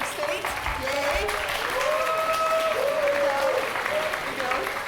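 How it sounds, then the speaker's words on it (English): Applause from an audience welcoming the Secretary of State at a public State Department talk, a steady wash of clapping that holds throughout at moderate level, with faint voices mixed in. "A round of applause, please, for our Secretary of State."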